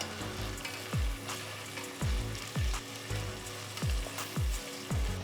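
Sliced onions and green chillies fry in hot oil for a raw jackfruit dum biryani, giving a constant close sizzle broken by regular scraping strokes of a spatula about once a second.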